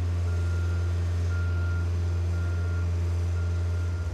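A boom lift drives forward and backward while a loud, steady reversing alarm tone drones continuously, with a faint pulsing at the end.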